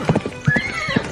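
A toy horse plays a loud, close neigh mixed with rhythmic clip-clop hoofbeats, with no voices.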